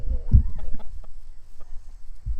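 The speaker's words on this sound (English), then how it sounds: "we have a lot of chickens" Chickens cluck in short bursts with some low scuffling, close by and fairly loud, without any talking.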